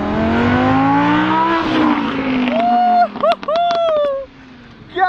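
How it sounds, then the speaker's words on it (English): A Lamborghini races past on desert sand, engine roaring and rising in pitch, then gear changes and revving bursts as it fades away, loud and close, with excited voices shouting over the approach. "You're about to witness a speeding Lamborghini fly by."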